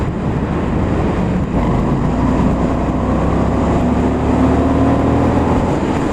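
Indian FTR 1200 motorcycle fitted with an Akrapovic exhaust, its engine running and revving steadily with a deep, continuous rumble close by, no talking over it.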